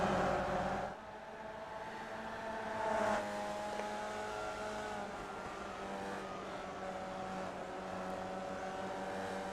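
Onboard race car engine in iRacing, a steady, sustained drone holding near-constant pitch throughout, with a brief swell around three seconds, no voices over it.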